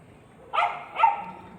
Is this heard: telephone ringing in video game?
no